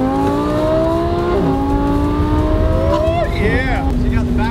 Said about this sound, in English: So you got the backfires and everything now.